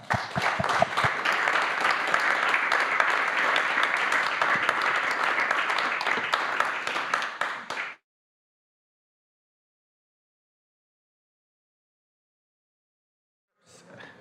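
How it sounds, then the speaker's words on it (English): A hall audience at an energy security summit applauds a panel: loud, dense, even clapping for about eight seconds, then an abrupt cut to silence, with a brief faint return of clapping near the end. "I'd like you to sort of applaud in the usual fashion, our extremely good and interesting panel"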